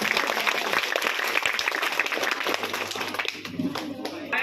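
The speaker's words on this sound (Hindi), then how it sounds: "तालियां ऐसी बननी चाहिए" Audience applause at a Republic Day celebration in a madrasa, scattered clapping from a crowd with a low hum underneath, fairly close, with voices mixed in and fading somewhat near the end.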